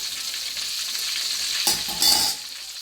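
Large fish pieces fry in extra oil with a loud, steady sizzle, broken by two brief bursts of stirring or turning, with no voices.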